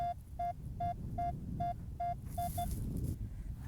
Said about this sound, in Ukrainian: Ось довгоочікуваний сигнал.